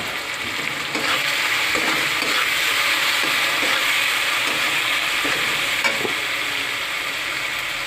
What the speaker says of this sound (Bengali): একটু ভাজা ভাজা করে নিই। এবার আমি অল্প একটু হলুদের গুঁড়ো দিয়ে দিলাম।